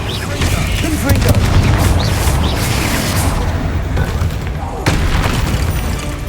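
The Confringo blasting curse in Hogwarts Legacy sets off loud, booming explosions and crackling bursts amid heavy game noise and combat effects, with a sharp blast midway, while a voice talks over the action.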